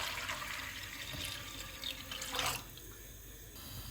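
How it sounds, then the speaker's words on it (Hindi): Water poured from a tap or jug into a pot of lentils set to boil with salt, a steady close splashing stream that swells near the end before easing off, with no voices. "पानी डालेंगे।"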